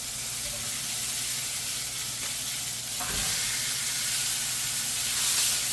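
A thick ribeye steak sizzles loudly in a hot pan as its sides are seared, a dense, constant hiss that swells slightly toward the end.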